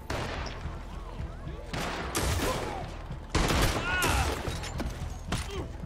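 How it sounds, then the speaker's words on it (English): Enemy gunfire in Red Dead Redemption 2, a dense fusillade of repeated loud shots with ricochet whines, clustered in bursts over several seconds amid game noise. "they're shooting at us"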